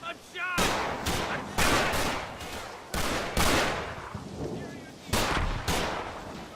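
Gunfire in the WWII strategy game Combat Mission: Battle for Normandy, loud sharp bursts of shots and blasts in clustered volleys that ring out and decay between hits, with faint talk underneath.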